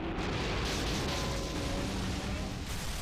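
Godzilla's sweeping atomic breath in the Godzilla PS4 game roars as a loud, dense, continuous blast that holds steady for about three seconds with a harsh, crackling rush.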